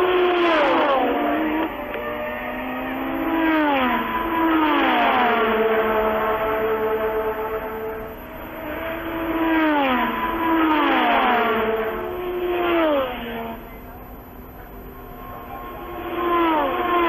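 Early-1980s Formula 1 cars, Ferraris among them, scream past one after another, each high-pitched engine wail rising and falling in pitch as it approaches and recedes, loud and near with overlapping revs.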